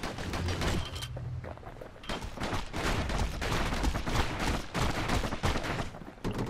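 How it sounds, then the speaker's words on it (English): Dueling pistols fire in rapid, repeated cracks throughout Bastion combat, the loud shots dense and continuous against layered game sounds and music. "Eat my dueling pistols"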